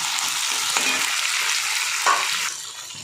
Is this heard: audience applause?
no